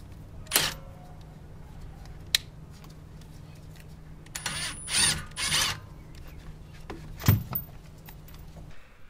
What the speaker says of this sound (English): I do like to use a rattle gun to do all of the unbolting and refitting of everything